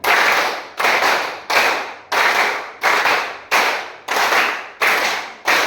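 A class claps together in a rapid, evenly spaced series of about eight crisp group claps, each ringing briefly in the room, loud and near with no talking.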